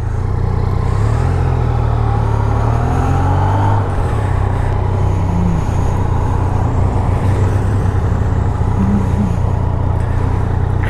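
A Yamaha XSR900 motorcycle pulls away, its engine revving up through rising, wavering pitches, loud and close at first, then continuing as a steady roar mixed with passing road and traffic noise, no voices.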